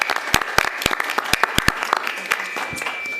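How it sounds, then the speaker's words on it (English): Round of applause at a school district board meeting, sparse, sharp individual claps from a small audience in a room, fairly near, with a steady tone running underneath. "How about giving them a round of applause?"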